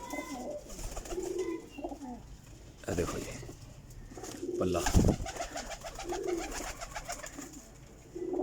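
Kasuri-type pigeons, patterned and mesh-marked, coo repeatedly in soft low bursts close by, with someone talking over them throughout.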